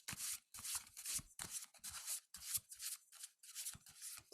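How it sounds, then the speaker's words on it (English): A deck of cards being shuffled by hand at a table, a quick run of crisp riffling and rubbing bursts in an irregular rhythm, close and fairly quiet, with no voices. "I'm going to shuffle."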